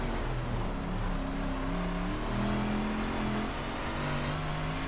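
Race car engine held on throttle in the iRacing simulator during a NASCAR league race, a loud, steady droning roar with shifting revving tones, continuous and close.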